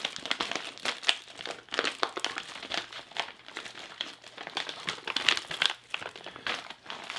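Someone struggles to tear open a retort pouch from a Ukrainian 24-hour combat ration, producing soft, irregular crinkling and rustling bursts with brief tearing sounds, fairly faint and close, with no talk.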